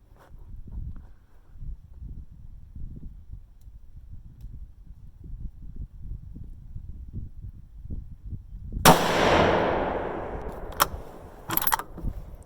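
A Ruger American Predator 6.5 Grendel rifle with a muzzle brake, loaded with Power Pro powder and 85-grain Sierra bullets, fires a single sharp, loud shot after low outdoor rumble. A decaying echo follows, then a couple of metallic clacks.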